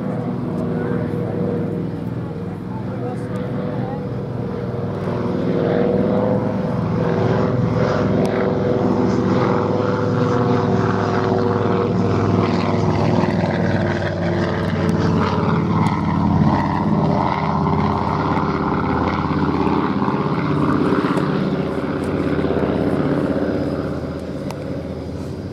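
An Avro Anson, a twin-engine propeller monoplane with retractable undercarriage, flying at an air show, giving a loud, steady engine drone that swells and holds throughout while a commentator talks over it.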